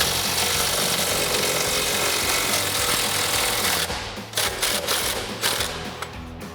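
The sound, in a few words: 3/8 inch impact gun with 18 mm socket loosening bolt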